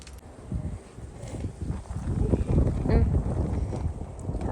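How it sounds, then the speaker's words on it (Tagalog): Strong wind buffets the microphone in heavy, rumbling gusts that build over a few seconds, with faint voices underneath. "Pero malakas pa din yung hangin"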